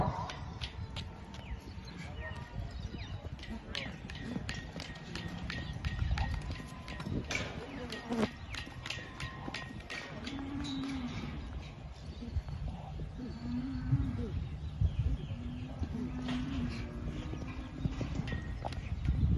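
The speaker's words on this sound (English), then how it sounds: "Will Durbin, riding Heather and David Pascoe's Nonda Southern Cross" Horse ridden at a show-jumping competition, hooves clip-clopping in a steady rhythm on the ground, moderately close, under an ongoing announcer's commentary and scattered background noise.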